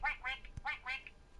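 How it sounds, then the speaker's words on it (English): A toy reindeer duck quacking four times in quick succession, nasal honking squawks close by with a soft thump between the second and third. "it quacks."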